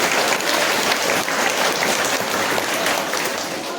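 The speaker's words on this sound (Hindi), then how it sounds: "इनके लिए जोरदार ताली बजा दीजिए" Loud, dense applause from an audience at a school event about free education, steady throughout and tapering slightly at the end.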